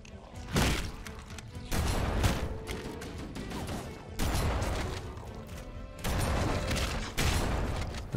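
Rapid gunfire and thudding blasts from enemies in Halo: CE Anniversary come in loud bursts, mixed with crashes and in-game effects.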